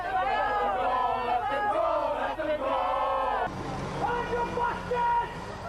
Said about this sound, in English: A menacing crowd gathered outside the court